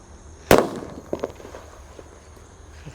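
A firecracker set off on the ground gives one sharp, loud bang, followed by a few faint crackles and pops as it dies away outdoors.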